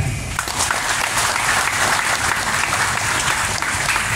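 Loud, dense applause from a large crowd at a Labour Party (Partai Buruh) political rally in Bekasi, with steady clapping and crowd noise filling the whole stretch without a break.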